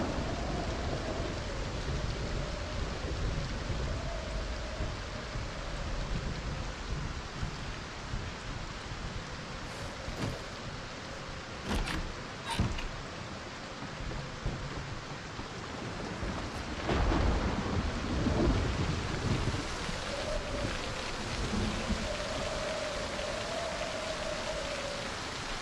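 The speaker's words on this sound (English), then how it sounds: "Jesus, it's gonna rain again?" Steady rain hisses in the Project Zomboid video game while rolls of thunder rumble through, with sharper cracks and a loud swell later on, no voices over it.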